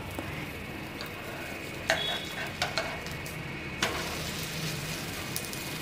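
A millet dosa sizzles steadily on a hot pan after being flipped, a constant close frying hiss broken by a few light clinks and scrapes of a utensil.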